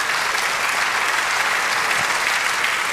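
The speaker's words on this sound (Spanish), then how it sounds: "denle un aplauso al Señor" A church congregation applauds the Lord during a sermon, a continuous, even wash of many hands clapping at steady volume from start to finish.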